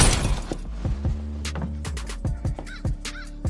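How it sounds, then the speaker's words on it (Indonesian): Glass shatters in a western film scene, a burst of sharp crashing then a scatter of separate tinkling and clattering hits of falling shards, with a harsh caw-like cry in the middle of the fragments. "terdengar suara pecahan kaca."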